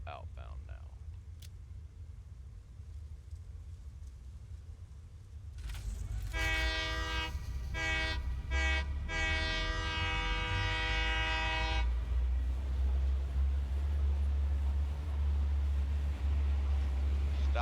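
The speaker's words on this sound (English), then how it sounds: "Right after the train makes the corner." A train rolls through a Satisfactory video game world, a steady low rumble with a loud sustained horn blast of several sharp pulses partway through, then continued rolling noise; a voice talks faintly early on.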